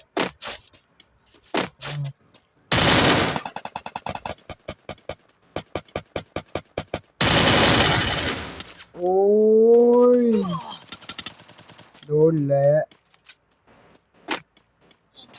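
Rapid automatic gunfire in the mobile battle-royale game Free Fire comes in loud, harsh bursts separated by short silences, with sharp single cracks and tonal game effects in between.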